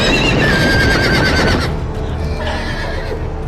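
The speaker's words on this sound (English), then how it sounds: "Caballo." A horse in the Game of Thrones video game gives a loud, close whinny that wavers and fades, with faint hoofbeats underneath.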